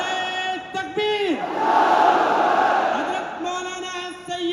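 A loud leader's call rings out, then a huge stadium crowd at a Jamiat Ulama-e-Hind gathering bellows a swelling unison chant in reply, fading as the leader's voice returns.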